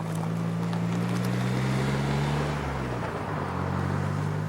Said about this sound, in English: We've managed to hitch a ride aboard this 30-year-old Solent-class lifeboat, which regularly does wildlife tours around the estuary.